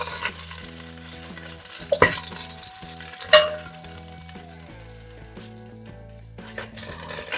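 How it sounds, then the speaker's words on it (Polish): Rabbit meat sizzles and fries steadily in a pan, with a few sharp clinks and scrapes of a utensil cutting through the hiss. "Druga porcja mięsa już nam się przysmażyła z obu stron."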